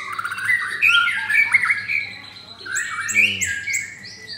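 An Oriental magpie-robin (murai batu), a caged songbird, sings loud, varied whistled phrases close by, pouring out two long continuous bursts of rich, rapid song with brief chirps between them.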